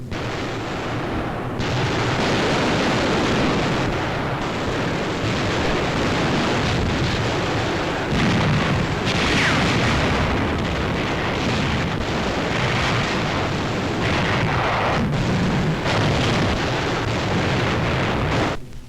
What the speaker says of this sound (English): In the afternoon of March 23rd, the artillery barrage began. It continued throughout the night.